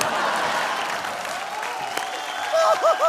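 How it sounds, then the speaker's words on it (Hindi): Studio audience applause on a comedy show set, steady dense clapping throughout with cheering, and a brief voice or whistle-like tones rising near the end. "क्या एक्टिंग की है, जोरदार तालियां"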